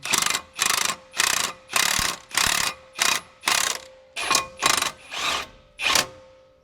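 Lug nuts being run down onto a 2001 Ford Super Duty wheel hub, likely with a ratchet or impact tool: about ten loud, close, evenly spaced bursts of rapid clicking, each lasting about half a second.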